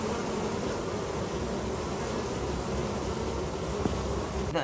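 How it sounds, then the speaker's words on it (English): Honeybees buzzing in the hills above Carpinteria, a continuous hissing drone with no clear breaks that stays at a moderate, even level throughout. "The hills above Carpinteria are buzzing with bees."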